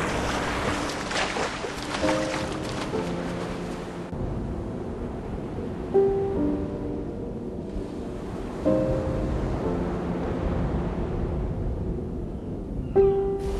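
Ocean surf washing in a video game, a steady broad wash of waves with game music tones and beeps layered over it, loud and continuous.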